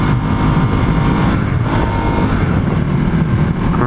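A Ducati Hypermotard motorcycle engine roars steadily while being ridden on the road, a loud, continuous low rumble with wind noise throughout and no speech.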